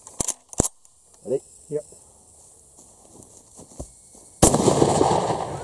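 An Uzkon LA887 lever-action shotgun, loaded with 3-inch Magnum shells, fires at a moving target outdoors: two sharp, loud blasts close together near the start, followed by softer handling noises and brief talk before a burst of steady noise.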